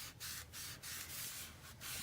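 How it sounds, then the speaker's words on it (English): A bone folder burnishing paper for a mini album craft project, with quick rhythmic rubbing strokes, a soft hissy scrape in repeated back-and-forth passes, close and quiet. "Just burnish that really well."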